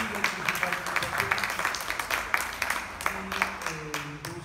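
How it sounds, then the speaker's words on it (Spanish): Audience applause for the teachers at the close of a tribute lecture, a steady wash of hand clapping with speech-like voices mixed in throughout. "por favor, un fuerte aplauso para los maestros"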